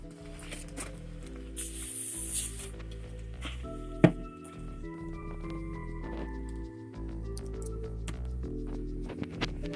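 Brake cleaner is sprayed onto the cylinder rod of an 80s backhoe, giving a short, bright hissing spray burst near the start over a steady tonal background, with a sharp knock a little later.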